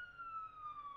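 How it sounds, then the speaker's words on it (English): A siren sounds out in the street, a single steady wailing tone that slowly falls in pitch, faint and distant under low background rumble. "You hear that siren?"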